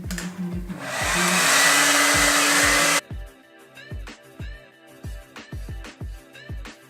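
A hair dryer roars loudly for about two seconds, heating a cracked plastic car bumper on a Honda S2000, then cuts off abruptly, with background music continuing around it.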